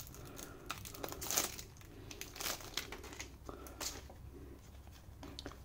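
Plastic shrink wrap crinkling and tearing as board game card decks are unwrapped, in close, uneven bursts of crackle with occasional quiet handling noise.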